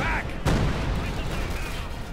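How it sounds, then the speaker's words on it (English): A field gun barrage lands in Company of Heroes 2, with one sharp heavy boom followed by a dense rumbling roar of explosions and gunfire in a battle mix. "Another field gun barrage."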